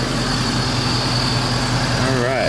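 A 2015 Ford Mustang GT fastback's 5.0-liter V8 engine idling with a steady, deep rumble and constant mechanical drone, close by and loud throughout.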